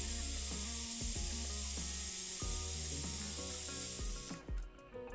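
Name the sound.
air hissing out of bike tire valve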